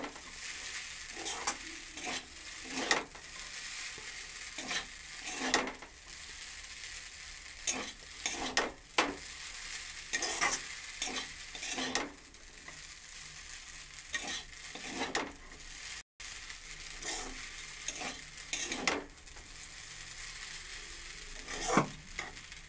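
Chow mein tossed with scrambled egg in a hot pan: a continuous close sizzle under repeated scraping stirs and clinks of a spatula at an uneven pace, with no voices.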